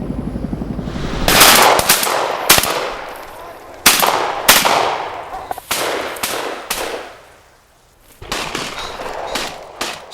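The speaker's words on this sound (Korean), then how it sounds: "총소리가 요란하다." Gunfire from pheasant hunting on Ulleungdo island in late autumn, a series of loud, sharp shots with ringing echoes, some single and some in quick pairs, spaced irregularly across the stretch.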